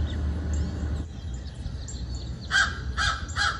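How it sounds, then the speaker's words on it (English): A crow caws three times near the end, short harsh calls rising out of quieter background rumble and faint distant bird chirps. "And that's the crow. Much higher pitch. Not quite as kind of throaty sounding call."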